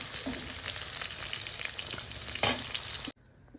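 Mixed vegetables frying in oil for a sabzi, a dense continuous sizzle with a brief louder stir near the end before it cuts off abruptly.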